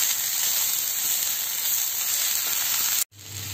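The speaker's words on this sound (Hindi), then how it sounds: "टमाटर को सॉफ्ट होने तक भून लेंगे।" Finely chopped tomato frying in a pan for misal pav gives a steady, bright hissing sizzle, close and constant, briefly cut off near the end before resuming.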